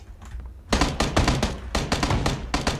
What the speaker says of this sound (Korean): 어? 총소리 어, 어 총소리 났어요